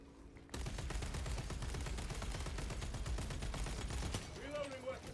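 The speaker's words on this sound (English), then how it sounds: "this is an Oculus bolt rifle. It has extended mags and rapid fire." Rapid bursts of automatic gunfire from an Oculus bolt rifle with extended mags and rapid fire in the Warhammer 40K Space Marine 2 video game, a dense near continuous volley that stops abruptly, followed by brief game sounds.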